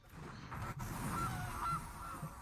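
A goose honk sound effect from the Guilty Goose card in a digital card game, a couple of honks in the middle over a busy, low game-music backdrop.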